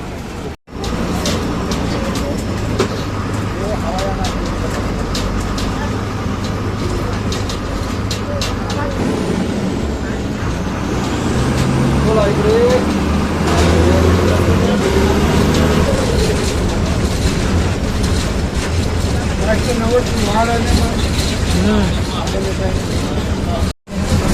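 An MSRTC overnight state transport bus travels at night, its engine and road noise forming a steady loud rumble throughout, with people talking over it.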